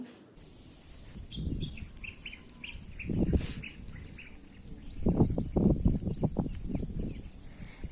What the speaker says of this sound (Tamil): சுற்றியுமே வந்து ஒரு மாதிரி ரொம்ப சைலண்ட்டாக அந்த பேர்ட்ஸோட சவுண்டு மட்டும் கேட்டுட்டு ரொம்ப சூப்பராக இருந்தது அந்த இடமே